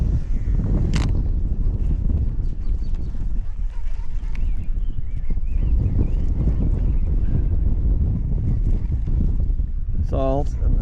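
Wind gusting across an open bay while fishing from a boat on a hot day, heavy low buffeting and rumble from start to finish, with a brief sharper noise near the end.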